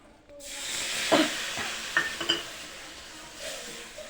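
Water hits a hot pan of spiced eggplant with a sudden loud hiss, then settles into steady sizzling, broken by a few soft clinks and stirring scrapes.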